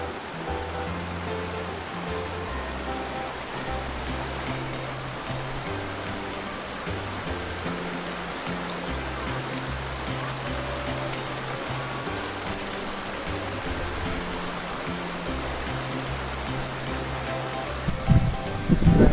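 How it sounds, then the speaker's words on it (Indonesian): Fast-flowing river in Gunung Leuser National Park, Aceh, a dense, steady roar of rushing water up close that fills the whole clip, with a brief louder disturbance near the end. "Dan ini sungainya cukup keras dan cocok sekali untuk arung jeram."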